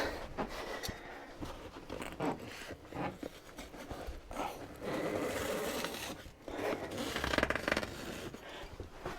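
A blade saws through a thick 8-inch mattress with continuous rasping, scraping strokes and short tearing bursts, close and fairly loud, with no talking.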